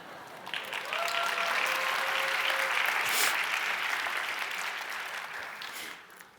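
An audience in a church bursts into sustained applause that swells quickly, holds for several seconds and then tapers off, with a faint voice briefly audible near the start.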